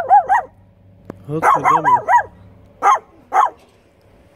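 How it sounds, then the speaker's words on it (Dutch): A panicked dog just freed from a hot car barks in loud, close bursts of yips and barks with gaps between them, and a man curses once in the middle. "En die hond was helemaal in paniek aan het schieten."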